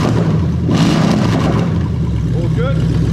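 A Lexus 1UZ-FE VVT-i V8 revs in a drive-by-wire test, a loud, close engine note rising sharply and easing off across a few seconds, with a second shorter blip near the end.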